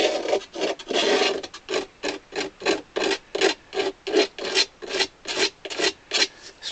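A blade scrapes leftover tape residue off accordion bellows on a Paolo Soprani 80 bass accordion, a close series of about sixteen rhythmic rasping strokes that come steady and evenly spaced with short pauses between them.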